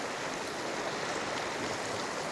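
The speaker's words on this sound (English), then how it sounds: "We really like walking by the creek." Creek water runs steadily through a forest, a dense, even wash of flowing water that holds close and constant with no voices over it.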